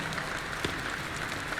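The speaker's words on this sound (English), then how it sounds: "Everyone's cheering for me to get up on stage" Steady crowd applause and cheering from an in-game stage scene in the Taiwanese horror game Detention, a continuous dense wash of clapping at even loudness throughout, with no talk over it.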